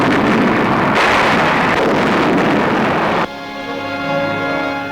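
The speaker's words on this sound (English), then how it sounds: "American artillery answers back." Archival newsreel wartime gunfire from American artillery: a dense, rumbling roar of blasts and wind-like noise that cuts off abruptly into a thinner, humming soundtrack tone, with no speech heard.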